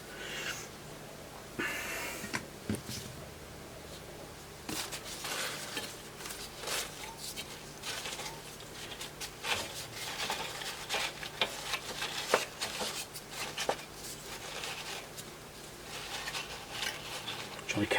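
DeoxIT contact cleaner hisses from a spray can in short, quiet bursts onto circuit board pins during a Keithley 181 nanovoltmeter repair, surrounded by clicks and handling noises.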